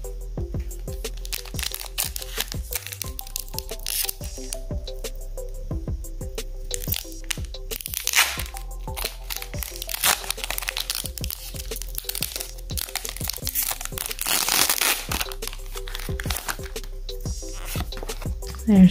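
Pokémon Go trading card pack being torn open and crinkled, with close, loud, repeated crackling and crunching foil rustles and sharp rips throughout.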